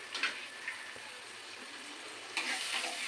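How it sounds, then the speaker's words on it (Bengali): Water pours into a pan of fish curry with a steady hiss and splash, sizzling softly throughout, then a fresh surge of pouring near the end. "এবার আমি জল দেবো"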